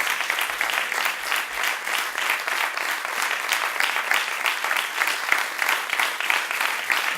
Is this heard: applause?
yes